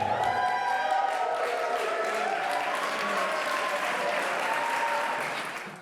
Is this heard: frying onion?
no